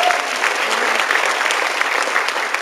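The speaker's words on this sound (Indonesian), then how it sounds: "tapi tepuk tangan saja" An audience at a marketing-plan event claps in a brief, dense burst of applause, loud and close, with individual hand claps standing out from the steady wash.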